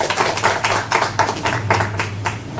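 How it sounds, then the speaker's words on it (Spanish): A small group clapping at a TV program, rhythmic hand claps in a regular beat of roughly four per second, close and fairly loud over a low steady hum. "nos merecemos un fuerte aplauso"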